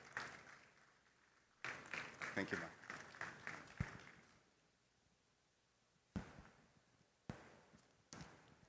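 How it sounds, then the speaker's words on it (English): Audience at a manufacturing and raw materials expo in Nigeria bursting into applause after a spoken thanks, a sustained round of clapping that fades, then a few loud isolated knocks or thumps. "Please, a round of applause for her."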